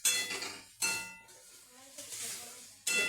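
A utensil clanks against a cooking pot while ingredients are mixed, sounding in a few sharp metallic bursts with quieter scraping between them.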